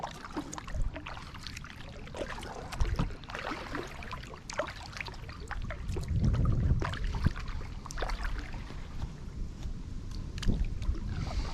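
A small paddle craft moves through a swamp, the paddle dipping and pulling water in irregular splashes and trickles, close and fairly quiet with light wind in the background.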